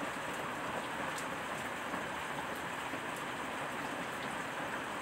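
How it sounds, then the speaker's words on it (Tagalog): Heavy rain pours steadily and densely, a constant loud hiss with no pauses and no voices. "Sana hindi na tumuloy yung malakas na ulan"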